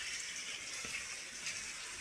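Rain falls at night as a steady, unbroken hiss of water, fairly faint and heard alone without voices.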